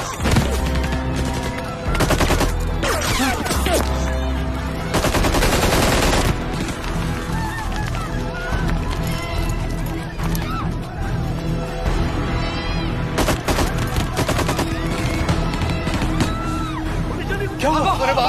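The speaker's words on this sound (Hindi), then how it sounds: "अरे बाहर गोलियों चली रही से।" Sustained bursts of automatic gunfire and rapid shots ring out loudly in a dramatic film scene, with heavy volleys rising and falling across the whole stretch amid shouting voices and commotion.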